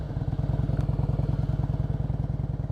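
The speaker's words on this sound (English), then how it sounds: "Sometimes when I give it a sharp twist of throttle," A motorcycle engine runs close up with a steady, rapid thumping exhaust pulse, a throttle twist giving a brief sharp hiss, with no talking.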